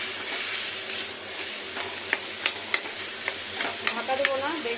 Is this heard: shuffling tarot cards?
no